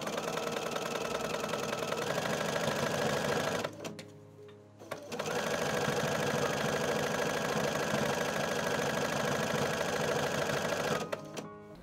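Sewing machine stitching blouse fabric half an inch from the edge, a loud steady run that pauses for about a second before resuming, then stops briefly near the end.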